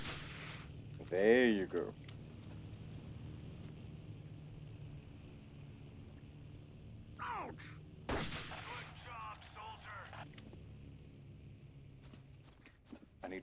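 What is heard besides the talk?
gunfire in the video game Battlefield 1942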